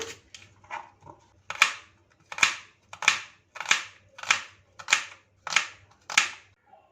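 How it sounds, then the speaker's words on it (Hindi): A cleaver chops through goat neck meat on a board: about eight heavy, evenly spaced thwacks, close and loud, after a few lighter taps. "बकरे की गर्दन का तकरीबन आधा किलो गोश्त है, इसे कटिंग कर लेंगे।"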